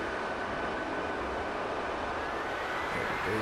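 Military jets, F-22A aircraft in the DCS flight simulator, roll for takeoff on a runway with flaps down and full afterburner, producing a steady, dense engine roar heard at a moderate distance without any voices.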